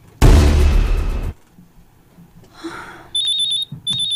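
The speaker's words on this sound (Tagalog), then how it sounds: "Oh, ang akong cellphone." A cellphone rings with a repeated bright electronic beeping tone in quick pulses, loud and close, following a heavy crash-like burst and a quiet gap.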